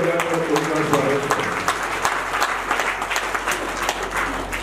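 Audience applause at a Hindu Shrimad Bhagavat Katha gathering, steady dense clapping from a crowd that fills the whole moment at moderate loudness, with no voices on top.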